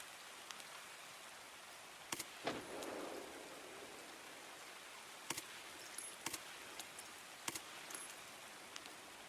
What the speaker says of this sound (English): This is some heavy, persistent rain.